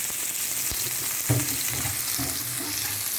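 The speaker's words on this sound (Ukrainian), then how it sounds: "Ось так ось я обсмажую до золотистого кольору." Pork ribs fry in a pan under a grease-guard rack, making a constant moderate sizzle with a few knocks and shifts as they are turned, and no talking.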